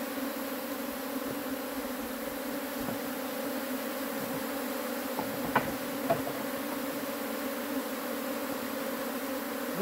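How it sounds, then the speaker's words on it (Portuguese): Dense, steady buzzing of many honey bees around an open hive during a transfer to a standard box, a continuous close drone with a few brief clicks and taps, no talking. "Muita abelha, muita."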